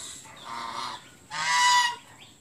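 A goose at a village home in rural Vietnam gives two loud, close honks in quick succession, the second stronger and longer than the first.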